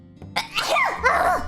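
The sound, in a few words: sneeze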